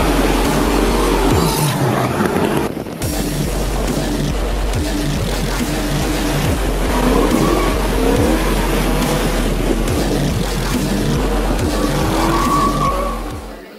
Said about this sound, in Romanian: Cei mai buni 8 piloți din România vor evolua pe faleza de la Casino pe 8 mașini tunate cu motoare foarte puternice